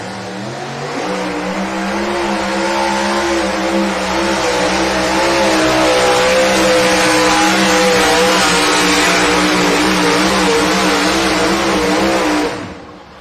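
Truck pulling competition at a Rock Valley, Iowa event: a pulling truck's engine roars loud and sustained for about twelve seconds, revving steadily under heavy load, then cuts off abruptly.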